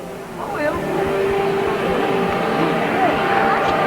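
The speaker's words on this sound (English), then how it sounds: "there's an awful lot of revs being generated down there as they're waiting for that last rider" Several grasstrack racing motorcycles in 1994 rev their engines at the start line while waiting. The mix of buzzing engine notes rises and falls, heard from a middle distance under a commentator's voice.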